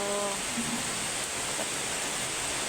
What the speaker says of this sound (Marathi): सकाळपासून पाऊस चालू आहे